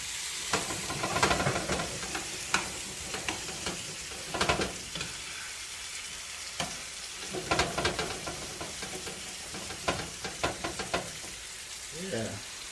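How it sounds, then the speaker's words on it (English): Shrimp sizzling in curry in a pan while being stirred for a Jamaican curry shrimp, a steady close frying hiss broken by intermittent scraping and knocking of the spoon against the pan. "You put the shrimp in it. The shrimp a little stir. You stir the shrimp."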